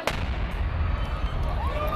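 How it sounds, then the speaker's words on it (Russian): Mortar shell explosion, calibre up to 100 mm, fired at a crowd near the Russian embassy in Damascus: one sharp loud blast at the start, then a rumbling tail and low background noise. "Два разрыва с разницей в 5 секунд. Судя по звуку, били из миномета калибром до 100 миллиметров."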